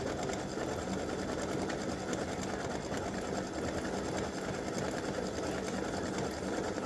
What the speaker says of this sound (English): so I've stitched all the roses, and now we need to put the back on our mug rug.